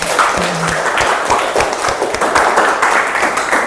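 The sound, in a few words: classroom applause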